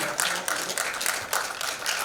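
An audience at a celebrity awards ceremony claps to welcome actress and model Ekta Jain on stage, brisk, fairly loud applause with irregular surges in intensity.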